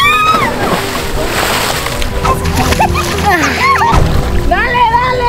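A person falls into water with a heavy splash and ongoing sloshing, while several people shout and laugh loudly in Spanish throughout.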